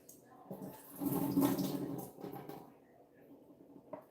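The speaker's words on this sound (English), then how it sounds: "you're going to strain and drain that pack of black oyster mushrooms as well" Water pours and splashes as packs of black oyster mushrooms are strained and drained, a steady gush swelling in the middle and then tapering to trickles and drips, with no talk.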